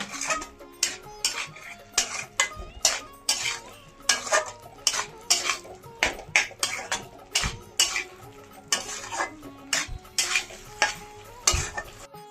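Potatoes are stir-fried with capsicum and peas in a pan, with a spatula scraping and clanking in a quick, regular rhythm over a light sizzle, close up and without speech.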